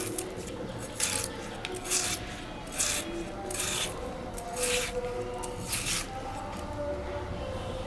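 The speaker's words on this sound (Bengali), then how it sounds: "একটা আলু আমি ছুলে নিছি, এটা এখন আমি ঝিরি করে বানাই নেব" A peeled potato being shredded into thin strips by hand, a rough, rasping scrape repeating in rhythmic strokes about once a second, close and moderately loud over a steady background hiss, with no talk.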